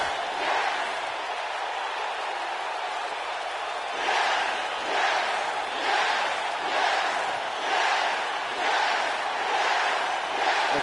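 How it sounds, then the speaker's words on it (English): Large arena crowd in the WWE 2K19 wrestling game chanting in a steady, pulsing rhythm, roughly one swell per second, loud and continuous with a dense roar beneath. "you can see this entire crowd here on their feet, chanting, yes, yes, yes"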